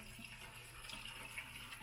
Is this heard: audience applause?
no